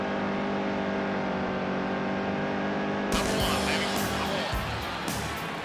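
Race trucks in the video game NASCAR Heat 2: a loud, continuous engine drone holds steady, then shifts to a rougher roar with passing whooshes midway, with a voice talking under it.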